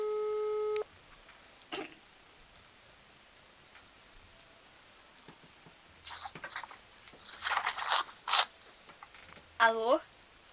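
A telephone tone sounds briefly at the start, then quiet handling noises and clicks follow, ending with a short burst of electronic beeps as a call connects.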